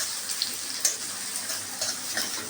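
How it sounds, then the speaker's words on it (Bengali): Onion sizzling in hot oil with bay leaf in a pan for Bengali mutton kosha, a soft steady crackle with a few sharper pops, close and moderately quiet, no voices. "এবার পেঁয়াজটা ভাজা ভাজা হবে।"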